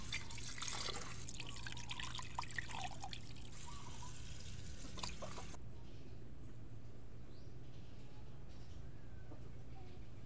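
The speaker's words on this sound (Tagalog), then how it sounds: "hugasan ito at lagyan ng konting tubig na parang nagsasaing ka lang" Water is poured and trickles onto purple sticky rice in a cooking pot, a soft steady splashing for about five seconds before it stops, leaving a quiet low hum.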